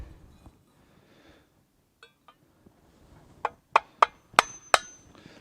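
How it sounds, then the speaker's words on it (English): Screwdriver tapped into a metal lid resting on a tree stump to punch a hole, giving five sharp, bright metallic strikes in quick succession after a few faint knocks, close and loud. "I'm going to use the screwdriver and just tap a hole right in it."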